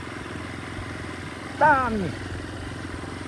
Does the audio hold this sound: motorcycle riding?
yes